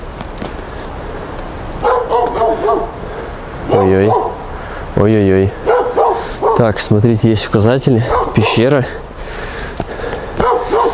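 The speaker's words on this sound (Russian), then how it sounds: "Так, нас там собака какая-то лает, встречает." A dog barks in a series of sharp yips and bow-wows at a mountain spot near Sochi, the barks mixed in with people talking nearby.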